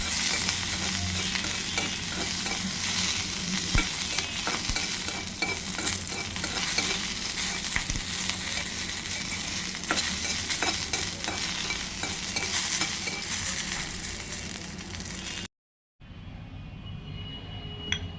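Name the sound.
chilies frying in a little oil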